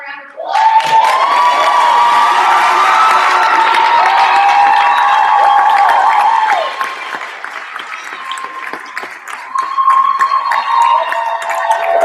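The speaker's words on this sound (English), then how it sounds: "Let's give them one more round of applause." A concert audience at a vocal senior thesis recital bursts into loud, sustained applause and cheering with whoops. The noise holds strong for about six seconds, then eases to steadier clapping that swells again near the end.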